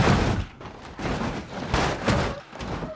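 In BeamNG.drive, a Dodge Ram TR4 pickup lands a jump badly and crashes, giving a run of loud, close impacts, thuds and crunching bangs that come and go for a few seconds.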